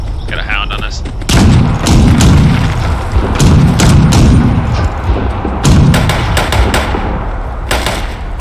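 Grenade and gunfire blasts in the Fallout 76 Nuclear Winter battle mode, with several loud, booming explosions arriving in quick succession among sharp shots, and a player's voice over the top.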